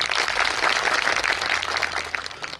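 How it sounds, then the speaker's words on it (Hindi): Crowd applause at an outdoor political rally in Gujarat, a broad continuous roar of clapping from many people, fairly loud and sustained throughout with no speech on top. "इनके लिए तालियां बजाओ एक बार।"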